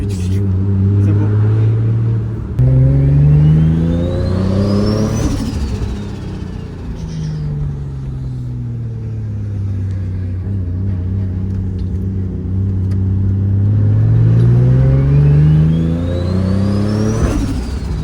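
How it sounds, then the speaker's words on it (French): Car at a Brûleurs de Gommes motoring event revving hard, its engine note climbing and falling in long repeated sweeps, loud and close with a continuous rumbling drone, while people talk underneath. "entendre le moteur qui hurle"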